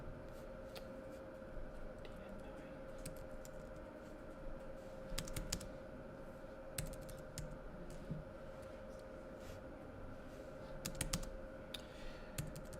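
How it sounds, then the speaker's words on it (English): Fingers type on a computer keyboard in a quiet room, a faint and continuous patter of irregular clicks with occasional quick clusters of keystrokes over a low steady hum, and no talking. "my keyboard is a bit annoying."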